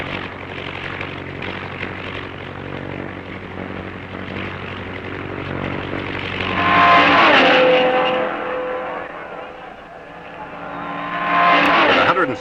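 Racing engines of cars in the 1954 Carrera Panamericana road race in Mexico roar past one after another, swelling loud as each approaches and fading away, with a steady engine drone throughout.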